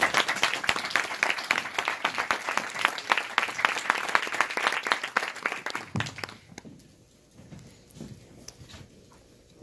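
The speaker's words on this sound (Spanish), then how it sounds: "Quiero para él un fuerte aplauso." Brisk applause from a conference audience in a hall, rapid dense clapping for about six seconds that then thins out to a few scattered claps and quiet room noise.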